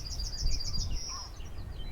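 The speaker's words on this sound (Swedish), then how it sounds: "Här hittar man mängder av fåglar" Seabirds on the Orkney coast give a run of repeated high chirping calls over steady low wind-like rumble, moderately near, with a fainter call later.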